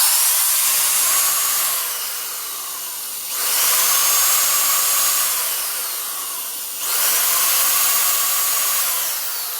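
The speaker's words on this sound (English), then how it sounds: "Drill the other 3 holes." Close power drill running continuously while drilling holes through a ski, its pitch swelling in three successive surges as it bores through, with no voices.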